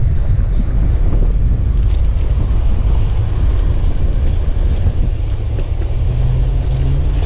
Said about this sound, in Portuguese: está um vento contra